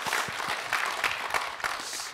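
An audience at a memorial talk concert for Cardinal Kim Sou-hwan's tenth anniversary claps for three panelists, a brief, moderately faint burst of scattered hand claps.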